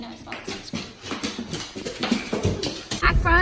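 A dog whimpers and whines from a crate inside a car, with thin, high whines rising near the end. A person talks over it throughout.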